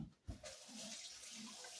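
Tap water runs steadily into a kitchen sink as it warms up, a soft, fairly faint hiss that starts after a brief knock and continues evenly with no voices.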